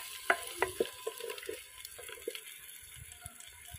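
Sliced onions sizzle and brown in hot oil in a pot for lobia, a soft crackling fry punctuated by a few scraping stirs of a spoon, faint and close with no talking.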